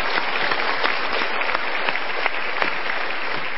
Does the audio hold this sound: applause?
yes